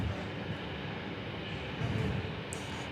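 A jet aircraft taxis out at Perth airport, giving a steady, moderately distant engine rumble and hiss that holds evenly throughout, with no talk.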